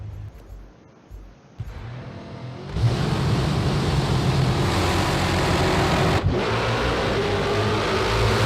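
Ginetta LMP3 prototype race car engine in a racing video game at Indy road course, a steady loud mid-pitched drone that surges up sharply partway through and holds at high revs, with no talk.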